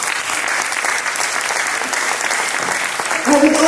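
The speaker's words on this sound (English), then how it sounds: "may I request a big applause for our Sir Joseph De Leon" Big round of audience applause at an awards ceremony in Japan, loud and dense continuous clapping filling the room, with a voice beginning to speak near the end.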